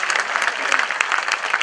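An audience at a JNU Independence Day celebration applauds, dense, steady clapping from many hands, close and sustained from start to finish.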